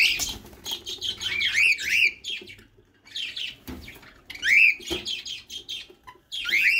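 Birds nesting before egg-laying chirp in repeated bright tweeting bursts with short pauses between, close and clear, with a faint low background rumble.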